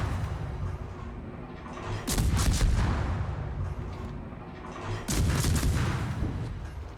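Warship guns fire in the naval game World of Warships, from the torpedo cruiser Kitakami. Two booming salvos roughly three seconds apart rise over a rumbling game background, with no talk.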